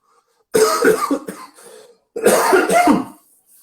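Two harsh, close coughing fits from an allergy, each a cluster of rough bursts, separated by a short pause.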